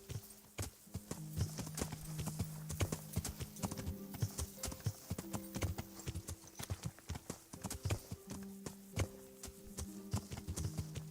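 Horse hooves clip-clop steadily and close in a video game, a brisk rhythmic trot of sharp knocks that runs the whole time over a faint backing tone.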